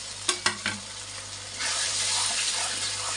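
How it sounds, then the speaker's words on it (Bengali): Mutton masala sautéing in a pan after a splash of plate-rinse water, a few sharp spatula knocks, then a loud, hissing sizzle that swells and holds close by, with no talking. "এবার মশলাটা ভালো করে কষানো হবে"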